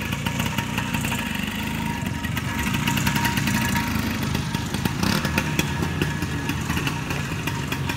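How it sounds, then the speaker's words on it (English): A 1964 Vespa motorcycle with a sidecar runs steadily close by, its small engine giving a continuous buzzing, rattling putter with slight rises in revs throughout. "This is my 1964 Vespa with the sidecar, my first vintage motorcycle."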